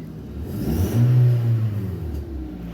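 A Hyundai Tucson engine revs up to around 5,000 RPM and back down in one smooth, rising-then-falling whir, heard close from the engine bay after an oxygen sensor fault.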